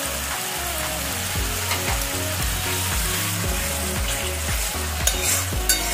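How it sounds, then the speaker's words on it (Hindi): Masala with a little sugar sizzles loudly in a pan for a pea and mushroom curry, a steady close crackle broken by repeated scraping strokes of a spoon stirring. "थोड़ा सा मसाला फ्राई हो जाएगा"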